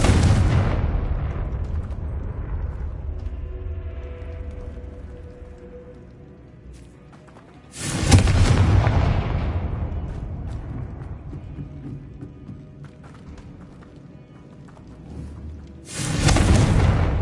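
Confringo blasting spells in the video game Hogwarts Legacy: three loud, deep explosive booms spaced roughly eight seconds apart, each bursting suddenly and rumbling away into a long decaying tail.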